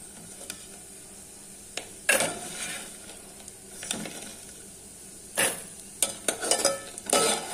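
Moong dal vadiyalu frying in oil in a pan while being stirred, giving a soft continuous sizzle broken by several louder scraping stir strokes, close up with no talk.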